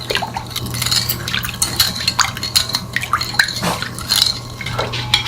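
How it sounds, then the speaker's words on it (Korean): A spoon stirs vinegar and sugar pickling liquid for gomchwi pickles, so the sugar dissolves. Close, repeated clinks and light sloshing against the container come with a faint steady hum underneath. "이렇게 해서 설탕이 잘 녹도록 저어주세요."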